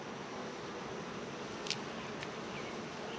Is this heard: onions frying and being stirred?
no